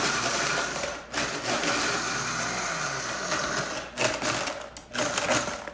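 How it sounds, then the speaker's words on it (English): A Vitamix blender whirs loudly up close while blending sauce ingredients, running in steady stretches with short pulse breaks in between. "you can do a regular blender or the Vitamix like we have"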